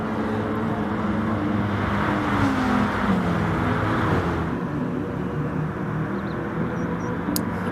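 Race car engines, including a BMW M6, drone continuously in a racing video game, a dense layered roar that swells slightly midway then eases, with no voices.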